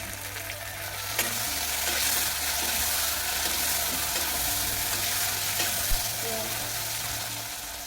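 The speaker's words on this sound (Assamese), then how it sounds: "বিলাহীখিনি গলালৈকে অলপ দেৰি ভাজিব লাগিব" Chopped tomatoes fry with onion, chillies, cumin, ginger and garlic in a pan for an Assamese fish curry, giving a steady close sizzle with repeated scraping stirs of a spoon against the pan.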